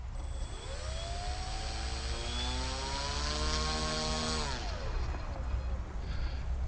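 A small AP40 Apprentice S 15e model airplane motor drones steadily, its pitch gliding down as the throttle drops, then settling into a low idle before trailing off near the end.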